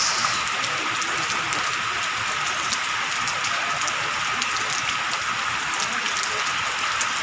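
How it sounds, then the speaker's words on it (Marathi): Steady heavy rain drumming on a metal sheet roof, a dense continuous patter with sharper drops standing out throughout, during a downpour. "पत्र्यावरती पाऊस पडला त्याचा आवाज"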